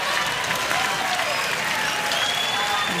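Crowd at a pro mixed doubles pickleball gold medal match at the US Open, clapping in a dense, sustained wash of applause across the whole stretch, loud and steady.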